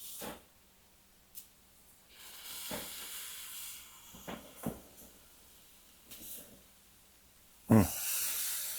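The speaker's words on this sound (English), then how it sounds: "We're gonna let this sear for a couple of minutes." Pork tenderloins sear in a hot pan, giving quiet, intermittent hisses and spatters that rise and fall, with one louder burst of sizzle near the end.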